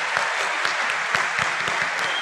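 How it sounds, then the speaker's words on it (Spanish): Dense, continuous applause from an audience at a 2022 Colombian presidential debate, clapping for the candidates Petro, Betancourt, Gómez, Pérez and Rodríguez, a close, even roar of many hands throughout. "Aplauso para los candidatos,"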